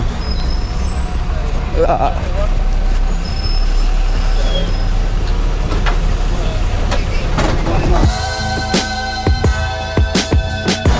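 A city bus pulls into a stop in a Polish town, its engine rumbling loudly and air brakes hissing as it arrives, with a person speaking briefly over the traffic noise.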